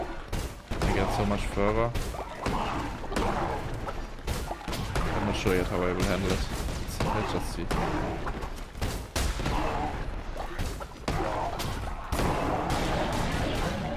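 Explosions go off repeatedly in the roguelike game Cult of the Lamb, loud bursts and crashes packed densely through a hectic fight, with someone talking over them throughout.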